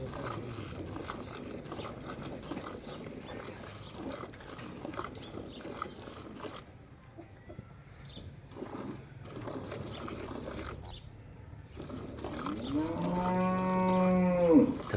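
A Friesian cross cow lows near the end of the stretch, a loud drawn-out moo rising over quieter farmyard background noise and scattered handling sounds.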